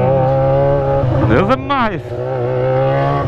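A Yamaha XJ6 motorcycle engine idles loudly up close, then revs sharply, the pitch sweeping up and falling back before settling into a steady idle, while someone shouts over it.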